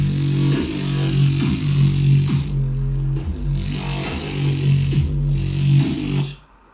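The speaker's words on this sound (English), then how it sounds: "It's Serum, and I love to make bass lines with this thing." Serum software synthesizer bass line for drum and bass, a loud, gritty low growl played as repeating rhythmic notes with buzzing upper harmonics, steady and close with no talk.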